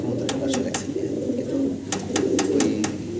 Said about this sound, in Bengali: একজোড়া বিশাল বিগ সাইজের শৌখিন কবুতর দেখাচ্ছি